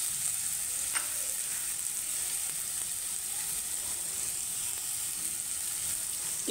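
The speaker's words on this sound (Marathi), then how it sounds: "असं चांगलं भाजून घ्यायचं कांदा" Onion frying in butter with a little oil for hotel-style pav bhaji, giving a steady, close sizzle that holds even throughout with a faint clink early on.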